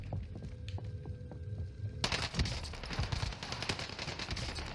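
Video game gunfire: a quieter stretch of faint shots and a steady hum, then a sudden burst into dense, rapid fusillade fire that continues loud and close to the end.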